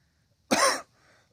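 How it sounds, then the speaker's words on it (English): A single short, sharp cough, close and fairly loud, with quiet breath right after. "You just start coughing randomly."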